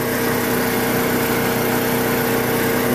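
Harbor Freight 4375 generator engine running after a pull start, a steady close droning rumble with no change across the short stretch.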